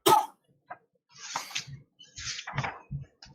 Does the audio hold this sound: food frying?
no